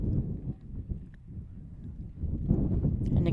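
Wind buffets the microphone at an outdoor high school baseball field under a passing storm cloud, a steady low rumble that swells and fades throughout.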